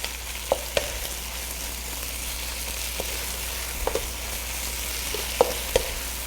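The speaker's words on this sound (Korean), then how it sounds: "이렇게 배추가 충분히 양념이 배이게 볶아 주시고요." Seasoned napa cabbage stir-frying in a hot pan: a steady, loud sizzle throughout, with occasional soft utensil taps and scrapes as it is tossed.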